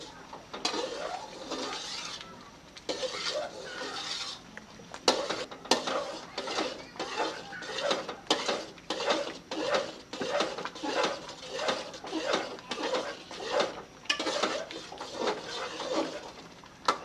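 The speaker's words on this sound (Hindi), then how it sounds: "चम्मच को हिलाते रहेंगे" A spoon scrapes and clinks against a pot while stirring semolina and milk halwa, in a steady series of metallic scrapes close up with no talking.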